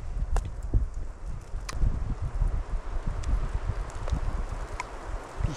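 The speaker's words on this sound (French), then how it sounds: "Tout ce que j'entends c'est le vent." Steady outdoor wind noise with no traffic, a continuous low rumble and rush with occasional gusty bumps, no voices.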